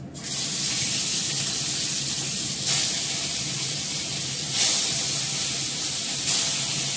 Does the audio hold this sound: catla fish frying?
yes